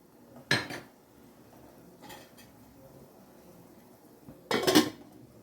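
Sardines going into a curry pot during outdoor village cooking bring a sharp metallic clatter of pot and utensils near the start, a faint knock midway, and a second louder clanking burst near the end, with no voices.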